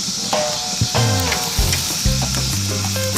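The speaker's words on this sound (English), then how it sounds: "take these bad boys off and throw it on this heat over here. Get a nice little sizzle" Fried chicken pieces sizzle loudly on a hot cooking surface, a steady crackling hiss with small pops and scraping clatters of tongs or utensils, close and continuous with no talk.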